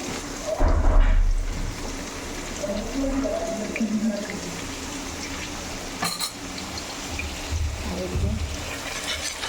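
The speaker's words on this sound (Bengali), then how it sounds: "দেখতে পাচ্ছেন আলু ফ্রাই হচ্ছে" Potatoes fry in a pan with a steady, crackling sizzle and bubbling that runs throughout, while a voice talks over it.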